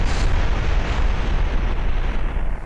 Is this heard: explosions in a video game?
yes